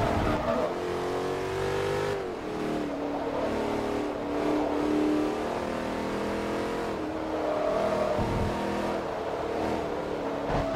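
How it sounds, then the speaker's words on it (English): Audi R8 V8 engine in Forza Motorsport 3, revving loudly and continuously with shifting pitch as the car races around Suzuka Circuit, with steady engine tones and no talking. "I prefer the sound of the V8 version of the R8 to the V10."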